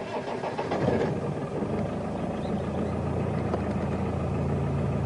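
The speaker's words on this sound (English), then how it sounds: "Let me just start up and we can talk while I'm driving." A car engine cranks over and catches, then settles into a steady, close mid-pitched idle that holds evenly without any talk.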